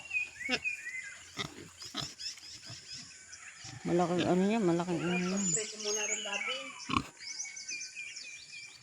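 A large pig on a country farm grunts and squeals in a loud drawn-out stretch near the middle, with people talking nearby and birds chirping in the background.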